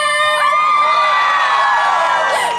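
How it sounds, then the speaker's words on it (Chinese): Loud, continuous high-pitched screaming and cheering from an outdoor concert audience at a lotus festival opening night, holding steady from start to finish with no one speaking over it. "尖叫声，"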